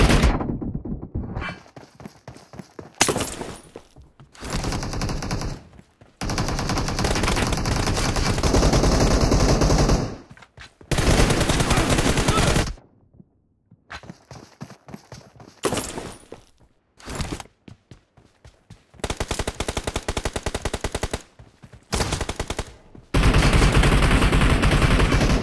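Rapid bursts of machine gun fire in the mobile shooter game BGMI, loud and close, arriving in repeated volleys separated by short silences, with no voices heard.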